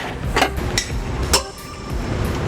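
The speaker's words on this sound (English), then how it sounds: "that's our last click. We're all at 100 foot-pounds." A torque wrench set to 100 foot-pounds gives a couple of sharp metallic clicks while a Jeep Patriot trailer hitch is bolted on, close and fairly loud over steady background noise.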